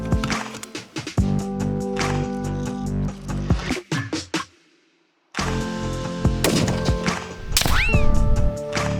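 Sharp metallic pings of rifle bullets hitting a steel gong target at 875 meters ring out repeatedly, several bright clangs with short decays, broken by a brief silence midway.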